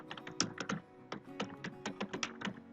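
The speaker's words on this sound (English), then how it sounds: "So let's start typing executive" Fingers type on a computer keyboard while entering data into a spreadsheet form, producing a steady, irregular run of close, crisp keystroke clicks with no speech over them.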